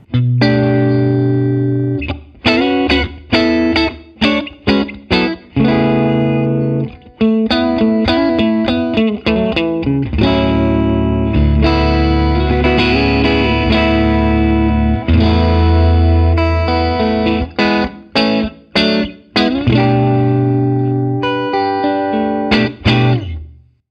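A MESA/Boogie Fillmore-amplified electric guitar rings out rich, sustained open chords with effects and reverb, strummed in phrases with brief gaps between them.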